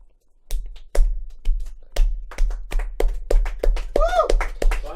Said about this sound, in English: Let's give a little clap.